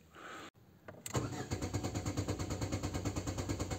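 A Lada Vesta's engine cranks and fires about a second in, after a brief quiet lead-in, then settles into a loud, steady, pulsing idle nearby. The car is being run to relieve fuel system pressure.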